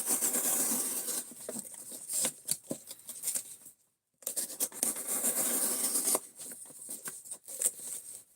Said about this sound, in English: stropping is the leather thing